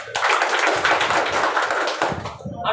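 An audience claps loudly and steadily for about two seconds at a presentation, then the applause thins out and stops, followed by a voice starting to speak.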